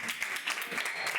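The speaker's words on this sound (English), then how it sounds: "Give him an applause." A brief burst of audience clapping at a student quiz session on taxation, fairly soft and continuous, with faint voices mixed in.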